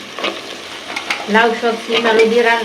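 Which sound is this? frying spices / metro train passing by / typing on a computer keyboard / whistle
frying spices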